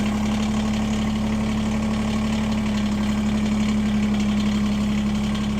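Kubota BX23s compact tractor diesel engine idling steadily nearby, a constant low rumbling drone with a firm tonal hum and no pauses or voices.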